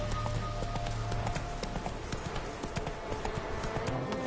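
Horse hooves from The Witcher 3 video game, a fast, steady clip-clop of galloping under a continuous game soundscape, with no talking.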